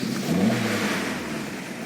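A 1988 Audi 100 C3 with a 1.8 petrol engine, just rebuilt, fires up and revs hard, a loud rising engine roar that then holds steady and slowly eases over about two seconds.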